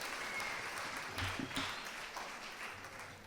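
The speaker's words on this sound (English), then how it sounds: "Arkansas 4-H, let's give one more wild round of applause for kicking off this week to Kyle." Audience applause at a 4-H opening ceremony, a steady wash of clapping from a large crowd with a few louder bursts partway through, heard at moderate distance without talk.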